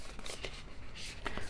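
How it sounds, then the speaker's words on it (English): A stiff, hard-to-shuffle deck of tarot cards is shuffled, giving brief papery rustling bursts close by, with a louder flick near the end and no talk. "I hate shuffling this deck because it's so hard to shuffle."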